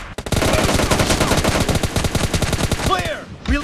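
Rapid automatic gunfire from the mobile shooter game PUBG Mobile Lite, a loud, dense burst of shots fired in quick succession for about three seconds, then a brief tail of shorter sounds before it stops.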